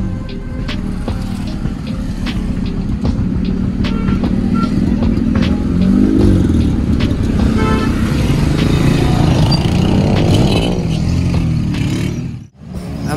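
Cars and motorbikes roll up to an auto show entrance in Islamabad, with a loud, close engine rumble, revving and occasional horn toots over busy crowd noise and nearby voices.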